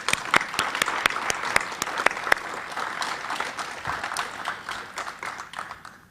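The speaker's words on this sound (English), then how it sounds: "Would you mind to stand, Leon, so we can give you a round of applause?" Audience applause at a public health talk on cancer, mesothelioma and commercial interests, steady and dense for several seconds with a few sharper individual claps near the start, fading slightly toward the end.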